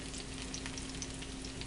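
Steak for spaghetti browns in a frying pan, giving a close, steady crackling sizzle with bright spitting pops, heard alone without talk.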